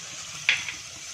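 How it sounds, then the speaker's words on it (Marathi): Potatoes with garam masala stirred in a frying pan, a soft background sizzle broken by one sharp scrape of a spoon against the pan and a fainter second touch. "असं मिक्स करतच राहायचं."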